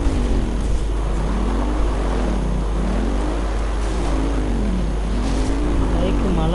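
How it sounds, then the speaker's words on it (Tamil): An ATV-like bike engine in the video game Planetside 2 drones steadily, its pitch rising and falling repeatedly as the vehicle speeds over hilly terrain. "இதில் பார்த்தீங்கன்னா ஒரு ஏடிவி மாதிரி ஒரு பைக் எடுத்துருக்கேன்."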